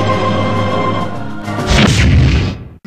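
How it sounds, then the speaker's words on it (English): Heavy automatic gunfire from a machine gun in a video game: a dense burst of loud rapid booms over a droning background, ending abruptly. "Use the machine gun."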